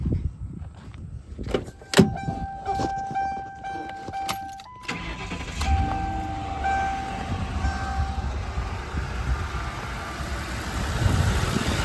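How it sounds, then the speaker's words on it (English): A Ford Crown Victoria's engine cranks and catches after a few chimes and clicks, then settles into a steady low idle rumble that continues close by, with no one speaking. "let's go ahead and start the vehicle"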